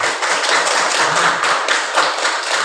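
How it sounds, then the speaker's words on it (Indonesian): A classroom full of people clapping together, dense and loud, with rhythmic pulses in the claps, close by, no talking. "Tepuk tangan untuk kita semua."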